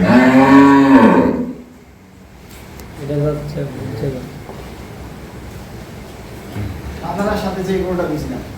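A dairy cow gives a long, loud moo at the start, then several shorter moos follow over the next few seconds, with people talking nearby at an agro farm.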